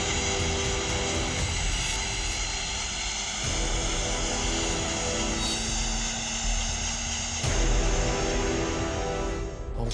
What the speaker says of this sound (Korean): 자, 헬기 타고 이동합니다.